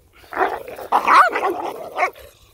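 Sheep guardian dog puppies bark in quick, overlapping bursts close by, several loud yaps and barks tumbling over one another with no talk.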